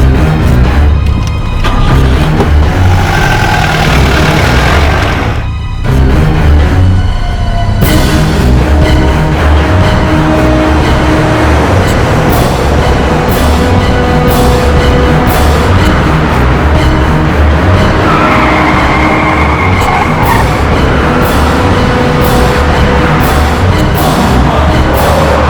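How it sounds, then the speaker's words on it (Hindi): Car engine roaring and accelerating away, loud and close, with a broad dense noise that breaks briefly near the start and then surges on with scrapy, skidding bursts and rattles. "चल गाड़ी निकाल।"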